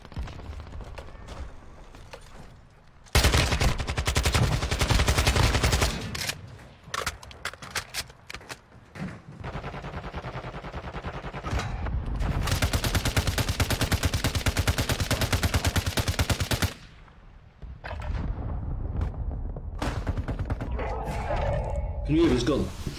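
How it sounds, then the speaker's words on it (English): Heavy gunfire from a massive gun in a battlefield shooter game, with loud sustained bursts and rapid volleys over several stretches, interspersed with quieter gaps and talk from a player. "Can you hear his gun? This fucking massive gun he's got."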